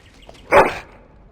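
A single short dog whine or yelp from a dog in the Dragon Age: Origins video game sounds once, close and fairly loud, against a quiet background without talk.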